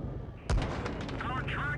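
Tank cannon fire in World of Tanks Blitz, one sharp loud shot with a rumbling tail and mechanical rattle, heard under a speaking voice.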